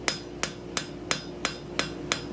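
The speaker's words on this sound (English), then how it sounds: "I'm really just bouncing my hammer on the surface, trying to clean up that line." A blacksmith's hammer taps across a forged double-bevel steel leaf scroll while planishing, seven sharp, evenly spaced metallic strikes about a third of a second apart, close up with no voices.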